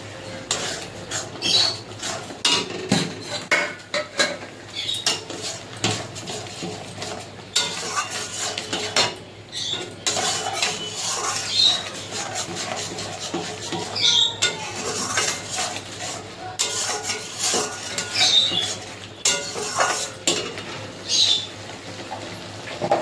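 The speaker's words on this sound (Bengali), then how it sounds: "ভালোভাবে কষিয়ে নেব" Prawn malai curry is stirred and sautéed in a pan with a steady sizzle, while a utensil scrapes and clinks against the metal at irregular intervals throughout.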